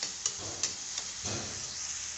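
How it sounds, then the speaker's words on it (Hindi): Mifun rice noodles frying in a pan, giving a steady sizzle with a few soft clicks and stirring scrapes, close and moderately loud with no talking. "मिफुन मिफुन फ्राई कर रहे हैं।"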